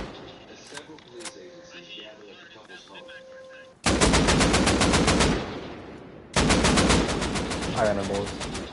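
Video game gunfire during a headshot attempt: a few faint early shots, then two loud, sustained rapid-fire automatic bursts, close and harsh, with brief quieter gaps between them.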